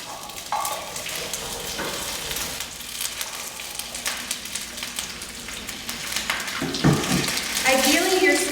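Green beans go into a hot skillet with garlic, raising a steady sizzle that builds louder toward the end, with a few pan clinks along the way.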